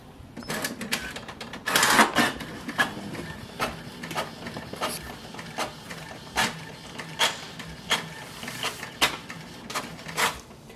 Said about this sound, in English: select your printer and give a print command.